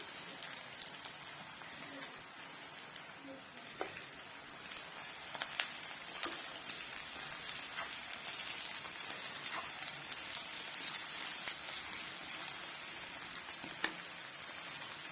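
Onions with ginger garlic paste sizzle in a pan while chicken is cooked for gravy, a steady, fairly quiet crackle with scattered small pops throughout.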